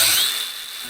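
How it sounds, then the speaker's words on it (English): An angle grinder fitted with a 1mm cutting disc slicing about 30mm off a piece during boat repairs, a loud, close, high-pitched continuous whine that tapers slightly over a second. "as you can see, the old angle grinder does a pretty good job"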